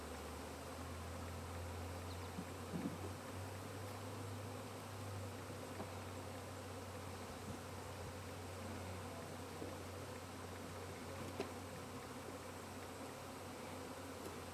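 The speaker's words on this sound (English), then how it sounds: "Scout bees are still coming and going." A honey bee swarm buzzes around a hive box outdoors in July, a dense, steady drone of many wings holding level throughout, with a faint low hum underneath and no voices.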